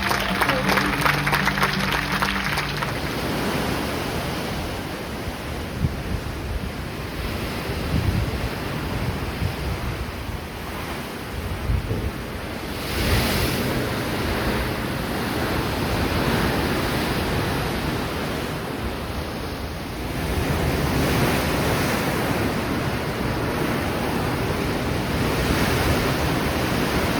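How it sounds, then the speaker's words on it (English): Ocean waves washing in a steady, continuous broadband roar that swells and eases slightly over time, with no voices. "The ocean is still very, like, wavy."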